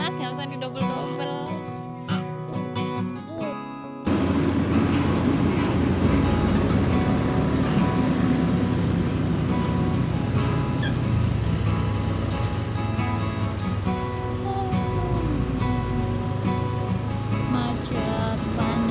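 A dusty, hot mountain road jammed with traffic gives off a steady, loud roar of engines and rushing air that swells abruptly after a quieter start and then holds without a break.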